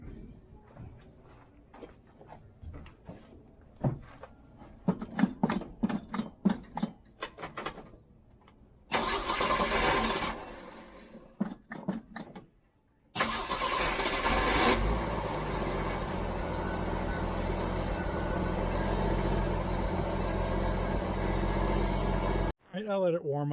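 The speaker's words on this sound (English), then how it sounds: "I'm going to fire it up, let it come off a high idle" A Jeep CJ-7 with a Weber carburetor, fitted with a new under-hood fuse panel, starts after a stretch of clicks and short rasping noises. The engine then settles into a loud, steady high idle that runs to the end.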